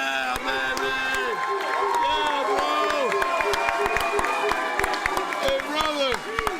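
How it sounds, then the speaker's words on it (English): A live slap fight event crowd cheers and claps continuously, loud and dense, while an announcer and people talk over the noise. "Please give a big round of applause."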